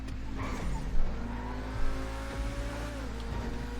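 An RE-7B race car on off-road tyres laps a track in GTA V, its engine droning steadily with brief louder revving surges and faint tyre noise, close and alone.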